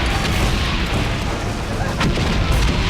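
Artillery shells burst in the Valiant Hearts video game, a dense rumbling barrage of booms and blasts layered throughout, with a sharper crack near the end.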